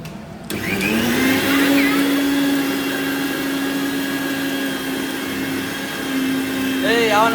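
A kitchen mixer grinds ginger, garlic, coriander, mint and green chilli for green chutney. It whirs on loudly after a brief pause and holds a steady, droning motor hum, and a voice speaks briefly near the end.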